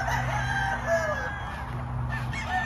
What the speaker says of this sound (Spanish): Y aquí tengo algunos gallos